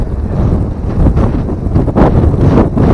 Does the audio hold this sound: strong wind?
yes